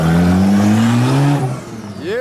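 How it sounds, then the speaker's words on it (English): 1JZ-powered Toyota Soarer engine droning loudly and rising in pitch as it accelerates nearby, then dropping away as the car passes, before another rev climbs at the end. "We've got Eddie driving the Soarer."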